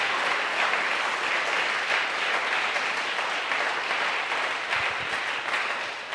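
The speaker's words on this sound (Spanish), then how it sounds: "¿Cuánto le damos un aplauso al Señor?" Church congregation applauding the Lord during a sermon, a full and steady wash of clapping from many hands that holds evenly throughout.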